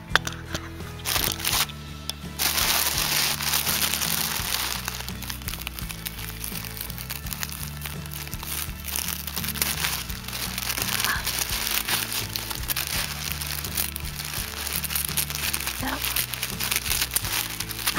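Tissue paper crinkles and rustles loudly and close up while a fillable bunny gift is unpacked, with continuous crumpling and crackling throughout.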